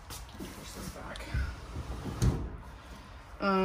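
A drawer in an RV is pushed shut with a couple of soft thuds and a firmer knock, set against background room noise with talking nearby.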